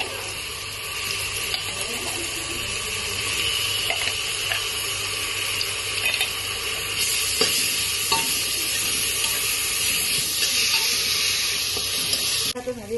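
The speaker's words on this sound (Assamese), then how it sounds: "রহুন পিয়াজটা একদম ব্রাউন কালার ভাজি লৈছো" Garlic and onion frying in oil until brown for a mutton curry, a continuous soft sizzle with occasional stirring clinks and scrapes, steady and close throughout.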